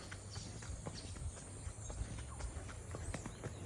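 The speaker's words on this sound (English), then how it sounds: "Beautiful scenery, river, and on the back of a horse." A horse walks along a jungle trail near a river, its hooves clip-clopping in an uneven, steady rhythm. The steps sound fairly close but soft, with a constant outdoor ambience underneath and no talk.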